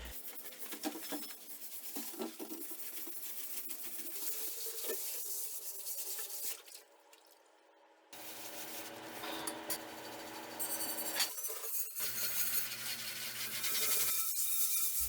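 Cast iron pans are scrubbed with Barkeeper's Friend cleaner, making close, rhythmic gritty rubbing strokes that pause briefly partway through before resuming steadily.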